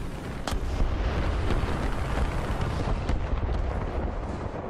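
A heavy bomb dropped from an FW-190 plane explodes in a combat game, a loud rumbling blast with a sustained roar and scattered sharp cracks over a deep low rumble.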